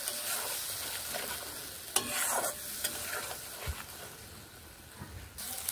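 Ground cumin, ginger and chili paste sautéing in a pan for a drumstick and catla fish curry, a soft continuous sizzle with scraping stir strokes, fairly quiet and close.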